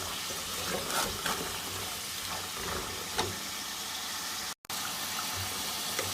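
Green peas frying in a pan with a little salt while their water cooks off, giving a steady close sizzle that runs almost throughout with one brief dropout near the end.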